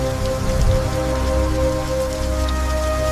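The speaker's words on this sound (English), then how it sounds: "The first raindrop hit my face like a warning I was too young to understand." Steady rain falls and patters on a surface, a dense, even hiss of drops with a low rumble beneath, continuous and fairly loud.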